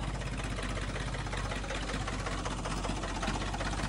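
A Ford 3600 tractor engine idling close by, a steady low diesel chug with a fast even firing rhythm and a mechanical knocking clatter running unbroken throughout.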